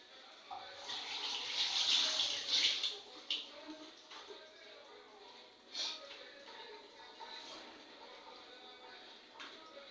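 Tap water runs into a kitchen sink while something is rinsed, a steady hissing flow that swells and then fades to a softer trickle, close by, with faint handling sounds.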